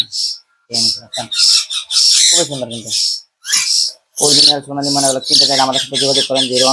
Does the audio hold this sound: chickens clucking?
no